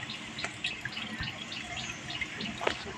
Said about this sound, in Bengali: এই যে জল ভরবো